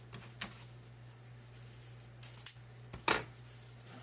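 Scissors cut a short piece of ribbon, a few crisp close snips spread out over a quiet background with a low steady hum.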